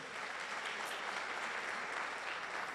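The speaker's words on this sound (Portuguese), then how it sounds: "Vamos dar um aplauso ao nome do Senhor Jesus?" Steady applause from a church congregation at a Baptist service, a dense even wash of clapping hands that holds at a constant level throughout with no voices standing out.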